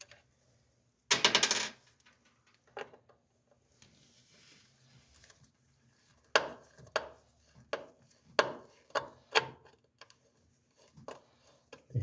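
Screws being worked loose from a dryer outlet fixture on a wall, heard as a sharp clatter followed by a run of small, irregular metallic clicks and taps, close by, with no talk.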